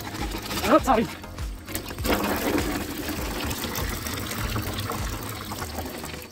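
Waste water flows through a 125 mm PVC drain pipe, a steady gurgling trickle and pour that runs continuously throughout, with people talking over it.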